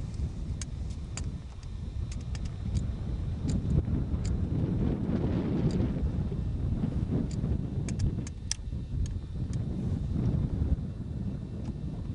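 Steady wind blows across the microphone, a constant low rumble with faint scattered clicks and no talking.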